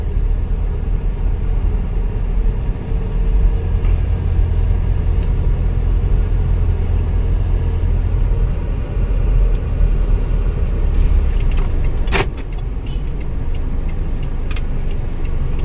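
Steady car road rumble from inside a vehicle with an ABS brake system, continuous low engine and tyre noise that eases slightly near the end as it brakes, with a brief click partway through.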